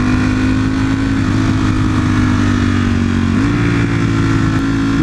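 A motorcycle rides slowly in second gear on a residential road, its engine a steady, smooth, close drone with a slight pitch rise partway through and no talking.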